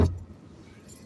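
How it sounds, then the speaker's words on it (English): Large car keys for a BMW jangling close up in one sharp metallic burst at the start, then fading into quiet room noise. "So they give you 2 of these nice big keys."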